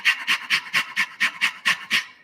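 Steady fast panting in imitation of a dog, as a man breathes out and in about nine times in an even rhythm, close up and breathy with no talking.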